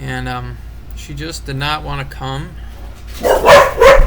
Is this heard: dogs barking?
yes